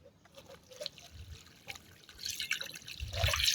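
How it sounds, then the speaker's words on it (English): Water is poured from a tap or container over bitter leaf in a bowl for washing, a faint trickling and splashing that grows into a fuller pour toward the end, with no talk. "So now I'm going to put water."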